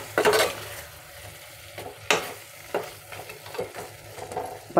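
Potato, tomato and onion fry in a pan for a cauliflower-potato masala curry, a continuous sizzle punctuated by several distinct spatula scrapes and stirs, loud and close.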